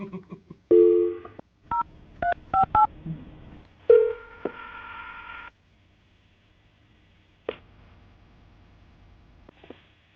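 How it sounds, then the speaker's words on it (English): Telephone number being dialed: a series of short keypad tones in uneven bursts, close and clear, followed by a pause and a couple of faint clicks on an otherwise quiet line. "We're about to call Danielle, see if we can get her on the phone"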